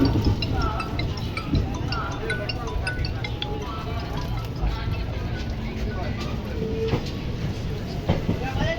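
A train leaving Ahmedabad station gives a steady rolling rumble with light metallic clinks and clatter, heard from on board as a voice talks over it.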